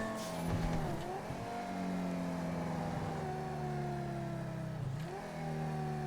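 A Banshee sports car engine in GTA Online revs hard and loud, rising through several sweeping pitch climbs with brief dips between them, heard alone without talk.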